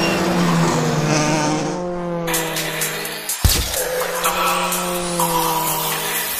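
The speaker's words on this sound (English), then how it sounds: "This is my Formula 3 car that I'm racing this year." A Formula 3 race car with a Mercedes engine rated around 250 brake horsepower screams loudly at high revs, its engine note shifting steadily through gear changes with a sharp burst midway, continuous and close throughout.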